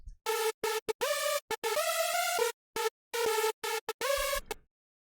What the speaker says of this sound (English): these two oscillators without any processing in the mixer channel sound like this